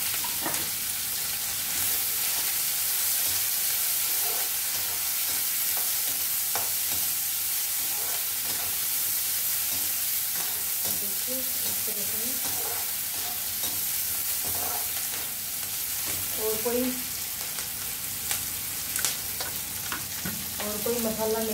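Two or three chopped onions with green chilies fry in oil for an okra fry, a loud, steady, close sizzle lasting throughout, with occasional stirring clinks and bubbling crackles.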